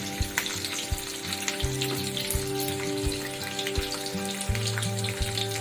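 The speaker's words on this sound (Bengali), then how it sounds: "আলু পটলটা একটু ভেজে নেবো, ভেজে নিয়ে তুলে রাখবো।" Potato and pointed gourd pieces frying in oil for a Bengali katla fish curry, producing a dense, crackling sizzle with constant fine spitting pops, close and steady throughout, with a low tonal hum underneath.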